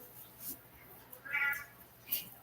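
A house cat meows once, fairly close, in a home kitchen while dough is being kneaded, the call brief and set against quiet room tone with faint background noise.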